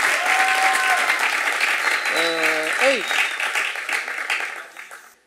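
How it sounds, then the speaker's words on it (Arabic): A studio audience at a folk-music talk show applauds, with dense clapping that carries on and slowly fades out at the end while a few voices speak over it. "وتصفيقه من الجمهور على روحك"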